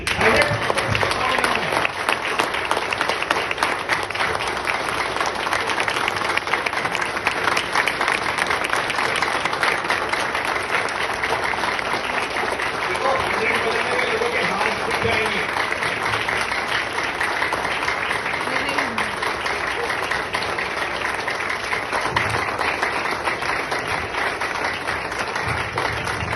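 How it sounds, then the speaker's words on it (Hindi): An audience at a business networking presentation claps continuously and loudly for a long stretch, a dense wash of applause with a faint voice underneath. "100 आपको क्लैप बजाना रहेगा कर्मा के लिए"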